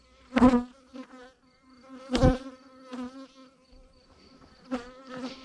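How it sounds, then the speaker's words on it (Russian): Swarming honeybees, angry and aggressive, fly right around a handheld GoPro, making a close, droning buzz that swells and fades as individual bees pass, punctuated by several sharp knocks. "Пчелы летают вот таким образом."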